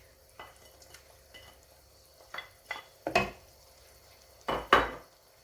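Sweet zarda rice with rose water and fried dry fruits is stirred in a pot, giving a few soft scrapes and clinks of a spoon against metal, with two louder scraping strokes near the end and no talking.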